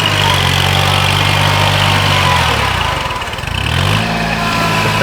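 A Kubota 2-series tractor engine runs steadily under load at a mini plow day, its low drone dipping briefly midway as the revs sag, then recovering.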